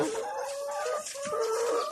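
Hens on a poultry egg farm cluck and squawk continuously and loudly, several birds overlapping close by with no pauses.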